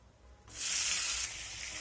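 Chopped onions drop into hot spiced oil for a chicken curry and burst into a loud, bright sizzle that flares suddenly, then settles to a steady, slightly softer hiss.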